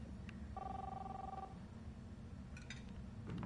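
A telephone rings in the Life is Strange video game, one clear electronic ring tone followed by fainter rings over a low background hum.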